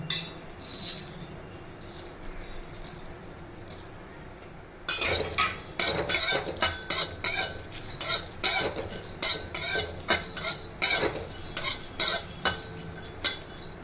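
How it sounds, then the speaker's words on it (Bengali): Coriander seeds, dry red chillies and cumin dry-roasting in a hot wok, with a spatula scraping and rattling the spices in rapid repeated strokes, quieter at first and then busier and steady. "এবার আমি ধনে, শুকনো লঙ্কা, জিরে যে রেখেছিলাম ওইটাকে ভেজে নেব।"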